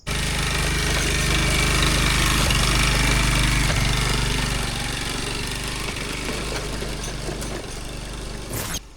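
A motorbike engine runs on a rough stony road up at Bosan Dada near Taudaha lake in Kirtipur, a loud, steady, close drone that eases slightly toward the end, with no talking.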